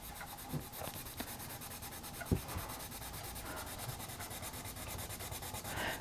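Pencil colouring on paper in a Halloween haunted-house colouring book: steady, close, scratchy rubbing strokes repeat continuously, with one soft knock partway through.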